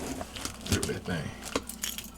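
A bunch of keys jangles close up in short metallic shakes, bright clinks coming in a few quick bursts, while someone talks over them.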